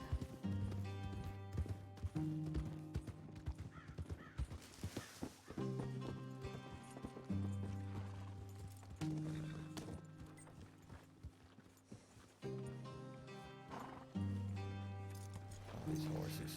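Horse hooves clip-clopping in the RedM western game, a steady rhythmic trot under layered music and a voice talking over it, with occasional clinks.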